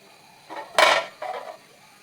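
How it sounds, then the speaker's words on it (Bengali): A metal lid is set down onto a pot of cauliflower curry with rohu fish, giving a brief clatter with one sharp clink and a softer follow-up rattle, close and clear with no talking. "এই যে ঢাকনা দিয়ে ঢেকে দিলাম"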